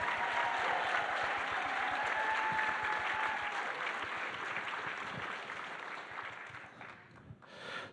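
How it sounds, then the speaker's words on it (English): A fundraiser crowd gives a big, sustained round of applause for a performer, dense steady clapping that slowly thins toward the end. "Give a big round of applause."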